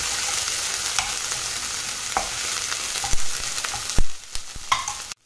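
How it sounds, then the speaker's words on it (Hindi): Crushed spices and cumin frying in hot ghee, a loud close hiss with scattered spoon clicks and stirring knocks that swell near the end before cutting off abruptly. "अब हम डालेंगे इसमें कुटा हुआ मसाला, भून लेंगे इसको अच्छे से।"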